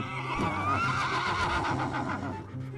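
A fire horse in the video game Battle Realms gives a long, shrill whinny with a shaky, wavering rise and fall, loud and close, alone without speech.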